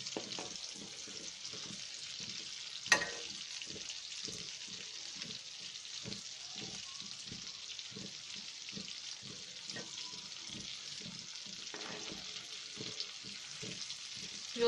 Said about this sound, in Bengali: ভিউয়ার্স আমরা এখন এটাকে ভাজবো সময় নিয়ে।